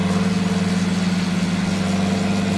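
Tractor engine idling in the farming game Farming Simulator 19, a steady, loud, continuous low rumble with a constant pitch and no talk over it.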